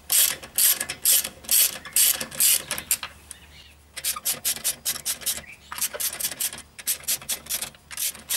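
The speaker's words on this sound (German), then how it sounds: "Und das Rad schrauben wir jetzt ab." Wheel bolts on a BMW E61 are undone with a ratchet, giving repeated close clicking bursts with short pauses between them.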